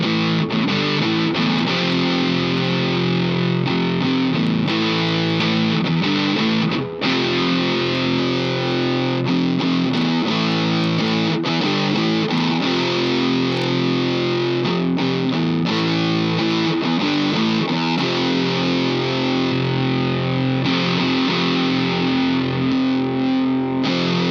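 Dense, sustained electric guitar through the turbo channel of a DS-2 Turbo Distortion pedal, thick and saturated with a steady loud level throughout, no voices.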